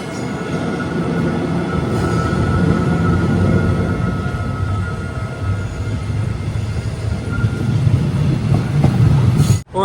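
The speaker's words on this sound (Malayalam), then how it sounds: "ട്രെയിൻ ഇപ്പോൾ വഖഫ് ബാറു സ്റ്റേഷനിലേക്ക് എത്തിയേ" Jungle train on the Johor Bahru to Tumpat line in Malaysia, heard from on board as a steady, fairly loud rumble of the moving carriage with faint wheel clatter throughout, no talking, ending abruptly.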